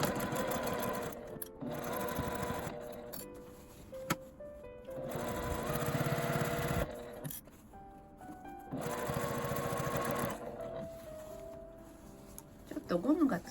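A sewing machine stitches a tent pouch about 7 mm in from the edge. It runs in several bursts of close, steady motor whir with short pauses between them.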